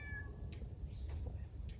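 A cat at a livestock auction meows faintly a few times, short soft cries spread across the moment amid low background rumble, with no talk over them.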